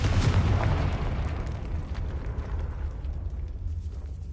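A video game fire spell explosion, a loud deep booming burst that rolls out into a fading rumble over a few seconds.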